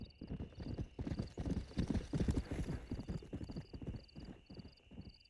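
Hooves of a stallion in the Western video game Red Dead Redemption clop in a steady, close rhythm for several seconds, with a faint whinny and a thin, steady high-pitched tone running underneath.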